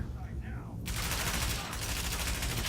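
Shotgun blasts in the shooter Tom Clancy's The Division, as a sudden loud burst of rapid firing that starts partway in and continues to the end, after a brief stretch of quieter sound.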